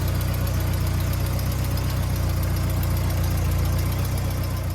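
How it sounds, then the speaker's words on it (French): A car engine idles steadily and loudly up close, a constant low rumble with an even mechanical ticking throughout, while the coolant circuit is being purged. "Démarrez et laissez tourner le moteur pendant 15 à 20 minutes."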